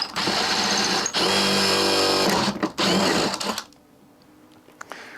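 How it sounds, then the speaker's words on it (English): A power drill with a 5/16 bit boring through wood, loud continuous whirring in two bursts with a short break, then stopping to quiet room noise and faint clicks. "I'm using a 5/16 bit here, and I'm using the holes that have already been drilled as basically a guide"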